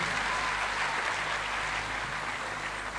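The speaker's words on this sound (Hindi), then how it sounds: "सभी लोग एक साथ भारी तालियों के साथ स्वागत कीजिए" An audience at a seminar gives a guest a warm welcome with steady, dense applause from many hands, close and continuous throughout.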